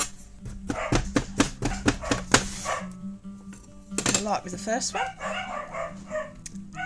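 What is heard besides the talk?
dogs barking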